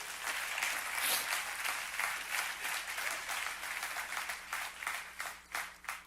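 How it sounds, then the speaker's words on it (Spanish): A church congregation claps during a sermon, a fairly quiet spread of hands applauding that builds, then loosens into more scattered, separate claps toward the end. "Dale ese aplauso a Dios si es para Él"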